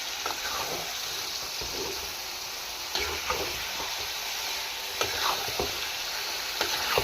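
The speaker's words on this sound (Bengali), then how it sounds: "মাংসগুলো অনেক সুন্দর হয়ে টকবক টকবক করে জালে সুন্দর করে রান্নাটা হয়ে যাচ্ছে" Chicken pieces cook in a simmering gravy for biryani, a soft, steady bubbling sizzle with occasional stirring scrapes and knocks rising above it, fairly quiet overall.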